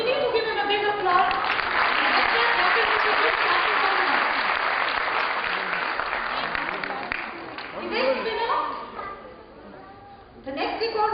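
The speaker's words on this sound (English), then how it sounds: "Mr. Navneet Singh, I think we need to give him a big applause" A crowd at a record-holder award ceremony gives a big round of applause, dense clapping that swells and then gradually fades while voices and talk emerge near the end.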